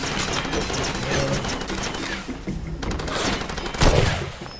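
Rapid gunfire in the video game Far Cry 2, dense bursts of close shots overlapping in quick succession, with a heavier louder blast near the end.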